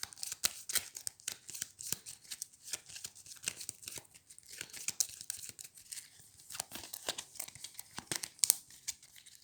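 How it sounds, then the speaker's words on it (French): Cards from a Tiny Epic Defenders The Dark War board game being shuffled by hand, a close, papery run of rapid riffling and crinkling flicks that continues steadily for about nine seconds with no voices. "On prend ça, on rajoute la carte qui est ici et on mélange."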